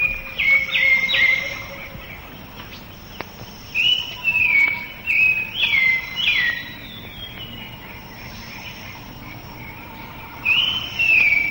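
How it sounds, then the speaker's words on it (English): A scrub bulbul calls in a Malaysian rainforest, giving repeated short bursts of bright warbling notes in irregular clusters at moderate distance, over a faint hiss of insects and forest ambience. "the restless and rather noisy scrub bulbul, recognizable by its usually puffed out pure white throat and its crest"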